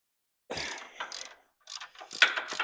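A ratchet wrench clicks in short bursts while a bolt is taken out of a 1930 Ford Model A engine. Two close, rapid runs of ratcheting are split by a brief pause, with a sharper metallic click near the end.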